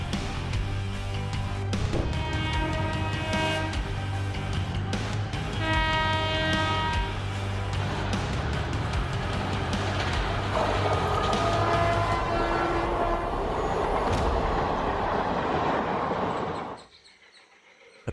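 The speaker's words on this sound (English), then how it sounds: "A pig tried to cross the railway tracks and was struck by the KJM WDG-3A 1330 train on the Shimoga-Bangalore route" A KJM-based WDG-3A diesel locomotive hauling a train on the Shimoga-Bangalore line passes close by. Its horn blasts loudly and repeatedly over a steady engine rumble and rolling wheels, and everything cuts off abruptly near the end.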